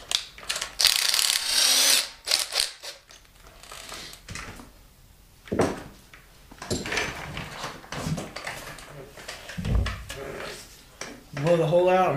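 A thread tap backed out of a stripped head bolt hole in an aluminum LS V8 block for an NS300L insert, close intermittent ratcheting clicks and metallic scraping in short bursts separated by pauses.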